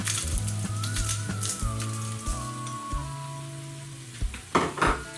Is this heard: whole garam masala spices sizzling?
yes